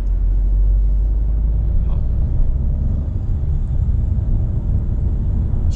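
A Peugeot 3008 SUV with a 1.2-litre turbo three-cylinder engine makes a hill start, giving a steady, close, low engine rumble with a faint rise in tone, with no talking over it.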